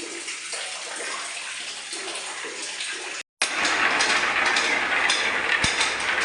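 Water gushes steadily from a side borewell pipe into a well, a continuous close rushing flow that cuts out briefly and then returns louder and fuller, with no talking.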